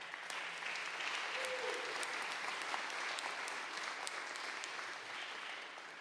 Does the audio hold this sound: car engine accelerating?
no